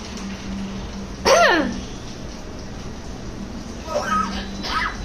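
A pet myna bird imitates a cough with one sharp, loud hack, followed a few seconds later by softer, chirpy cough-like calls, all close by.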